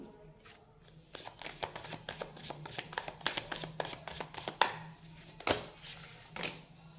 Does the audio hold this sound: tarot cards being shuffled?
yes